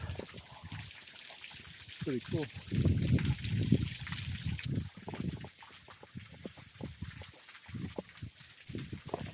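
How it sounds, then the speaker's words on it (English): Steady trickling of water runoff runs throughout, with a person talking briefly over it partway through. "That's just all pure runoff."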